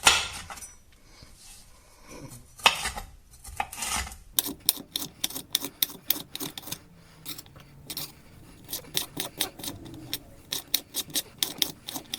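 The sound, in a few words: chopping peppers for seafood paella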